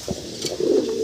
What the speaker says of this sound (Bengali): ফুল অ্যান্ডালুজিয়ান কালারের ভিতরে আমরা এক পেয়ার শোকিং কবুতর দেখাচ্ছি আপনাদেরকে